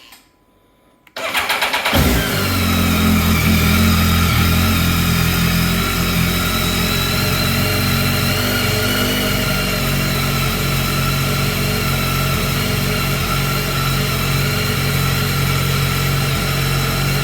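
A BMW K1300R motorcycle fitted with an Arrow slip-on exhaust starts after a brief quiet moment, catches with a short rev, then settles into a loud, steady, even idle close by.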